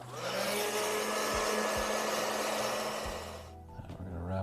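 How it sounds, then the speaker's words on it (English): Heat gun shrinking heat shrink tubing over yellow wire leads for auxiliary lights on a KLR650 motorcycle: a steady close blower roar with a constant hum, running for about three and a half seconds before cutting off. "Heat shrink it."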